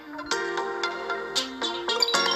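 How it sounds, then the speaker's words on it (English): Melodic phone notification chimes sound in quick succession over a mobile Pokémon TCG Pocket card-pack opening game, several tonal dings stepping between pitches, close and clear with no talk. "Yes, notifications, I see you. Please stop"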